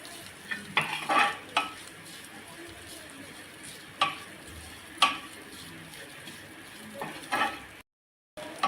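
Bombay duck (bombil) thecha being sautéed and stirred in a pan, with intermittent scraping and clinking of a spatula over a low sizzle, a few sharper knocks spaced through, alone without talk.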